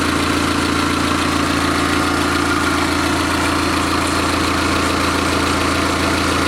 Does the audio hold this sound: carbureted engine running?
yes